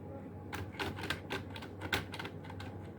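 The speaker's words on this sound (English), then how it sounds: "Now let us type something" Fingers tap keys on a plastic computer keyboard, producing a quick, irregular run of close, crisp clicks for a few seconds over faint background hum.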